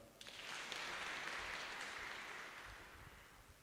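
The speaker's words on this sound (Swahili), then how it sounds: "Clap for me." A church congregation at a Kikuyu service claps together in a steady, distant wash of applause that swells and holds for a few seconds, fairly faint.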